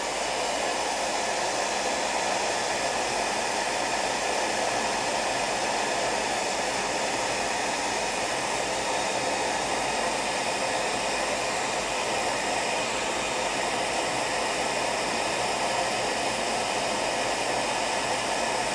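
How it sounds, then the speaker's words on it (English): A heat gun blows a loud, steady roaring hiss while drying enamel paint on a small outdoor shack, running unbroken and close with no talk. "the heat gun's going to evaporate the enamel out of this"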